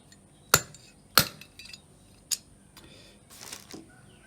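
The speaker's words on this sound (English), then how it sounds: "then you can just tap that bearing out" A bicycle pedal bearing from a Burgtec MK5 pedal being tapped out with a 7mm rod: two sharp metallic taps close together, then a lighter third tap and faint clinks, close and quiet.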